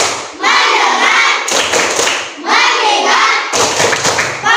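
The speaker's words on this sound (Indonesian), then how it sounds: "Lanjut, tepuk fokus ya semuanya ya." A school class does a rhythmic clapping routine, bursts of many hands clapping together, loud and close, in two long rounds separated by brief pauses.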